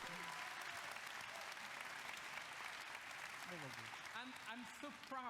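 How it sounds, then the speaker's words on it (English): Sustained applause from an audience at Ubisoft's E3 2017 press event fills the scene, with a voice speaking over it near the end. "please clap, everyone"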